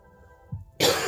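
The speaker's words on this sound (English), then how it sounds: "Excuse me, I had a cough there badly." A single sharp, loud cough bursts out after a soft throat sound, close and abrupt.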